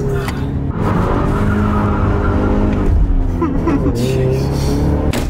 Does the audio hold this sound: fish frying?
no